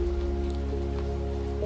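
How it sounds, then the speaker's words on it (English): Steady rain drums on a cabin porch roof, a dense, even patter that is close and fairly loud, with a low continuous hum beneath it. "Above her, the porch roof keeps the rain at bay,"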